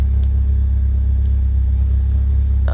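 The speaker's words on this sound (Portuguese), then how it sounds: "O carro tá precisando ver umas rotação mais alta pra secar tudo por dentro aí" A Fiat Palio engine runs after an exhaust repair, giving a loud, steady rumble that holds evenly the whole time with no clear revving.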